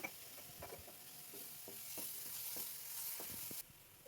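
Small shrimp frying in a pan with garlic paste, stirred with soft scrapes and taps over a constant close, quiet sizzle that ends with a drop in level.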